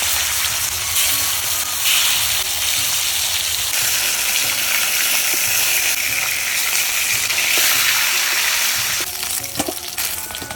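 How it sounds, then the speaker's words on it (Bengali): Pieces of shol fish, coated in salt and turmeric, fry in hot oil with a loud, continuous sizzle and crackle throughout, close by and without any talking. "পরের মাছগুলো ভেজে নেব"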